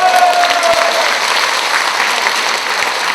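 An audience claps loudly at a Korean patriotic national rally held in Atlanta, a dense burst of applause that starts at once and continues steadily for a few seconds.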